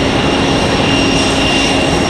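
A jet airliner departs Raleigh Durham airport, its loud, steady engine roar filling the whole stretch without a break; no talking is heard.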